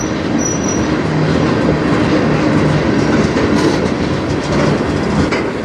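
A CN freight train rolls past on the Strathroy Subdivision, a loud, close, continuous rumble of wheels on rail with faint squeals and clatter throughout.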